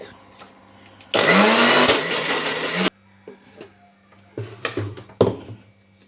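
A mixer grinder grinding dosa batter in a kitchen roars loudly for about two seconds and then stops abruptly, followed by quieter knocks and handling sounds of the jar.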